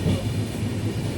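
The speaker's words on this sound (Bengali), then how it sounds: "এখন ট্রেনে উঠে পড়েছি" Non-AC passenger train on the Delhi to Haridwar route, heard from inside the carriage as a steady, loud low rumble with rattling clatter throughout and no talking.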